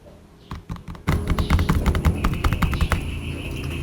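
Tapping on the body as percussion: a quick patter of many light taps over a steady background hum, with a few sharper hits early on.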